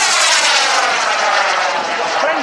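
A Viperjet model jet aircraft flies at full power, its turbine giving a loud, steady rushing roar that holds level and close for the whole stretch.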